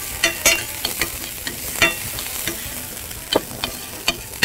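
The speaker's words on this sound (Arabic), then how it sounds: "شفت البصل لما يتقلي في الزيت؟" Onions fry in oil while being stirred, producing a continuous sizzle punctuated by sharp scraping taps of a utensil against the pan at irregular intervals.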